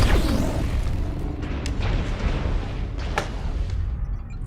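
Artillery strike explosions in MechWarrior Online, with several deep booms and crackling blasts over a loud, dense rumble, steady and close throughout.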